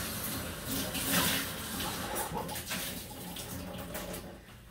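Water pours steadily and fairly loudly onto soil in an erosion model, a continuous rushing splash that runs unbroken for several seconds.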